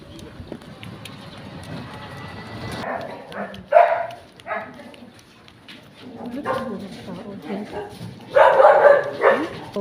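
A dog barks several times amid outdoor activity, with people talking nearby and footsteps or movement in the background.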